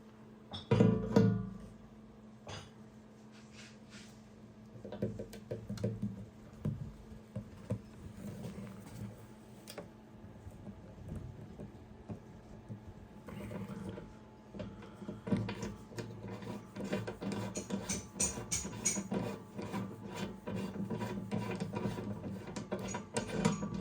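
A riv nut with a knurled body set into a truck side step with an installation tool: a busy mechanical clicking and ratcheting with steady gear-like whirring over a low hum, rising in activity toward the end.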